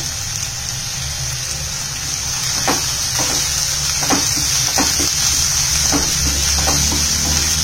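Onion, green chillies and curry leaves fry in hot oil for poha upma, a continuous close sizzle with scattered crackles and light stirring clicks, and no one talking.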